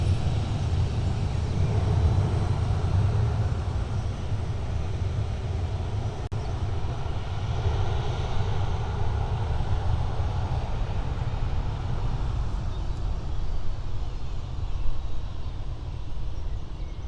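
An airliner, 29 years old, taking off at Stansted Airport, heard as a steady broadband roar that holds at a constant loud level throughout, distant and continuous with no voices over it.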